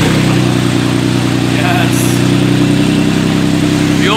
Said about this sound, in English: First start, IS250 open exhaust.